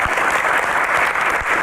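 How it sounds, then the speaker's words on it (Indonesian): An audience claps in dense, sustained applause, loud and even from start to finish with no voices breaking through. "Kita berikan tepuk tangan yang meriah untuk Kak Melanie Subono"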